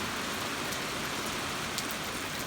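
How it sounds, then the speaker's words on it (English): Steady rain falls across an outdoor yard, a dense, even hiss of drops pattering on surfaces with no breaks or voices, moderately loud and close throughout. "Anyway, it's raining."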